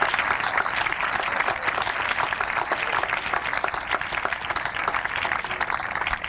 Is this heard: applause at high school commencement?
yes